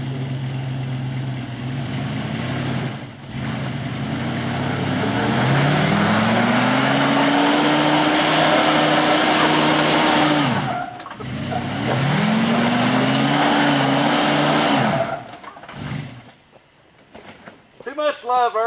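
A 1991 Jeep Grand Wagoneer does a burnout, its engine revving hard and holding high for long stretches, dropping briefly between pulls, with voices talking over the roar and a short lull before it ends.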